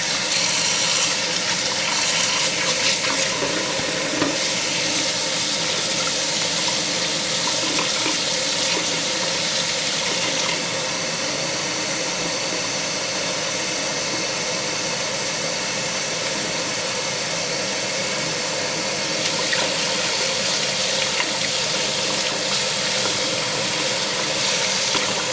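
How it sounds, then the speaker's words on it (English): Tap water runs steadily into a sink while steel knives are rinsed off beneath it, a continuous broadband rush at close range with no talk. "just washing the knives off here"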